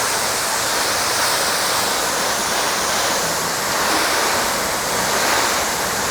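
Water sprays steadily onto car body panels during a ceramic coating water test, a loud continuous rushing hiss that stays close and unbroken throughout with no voices.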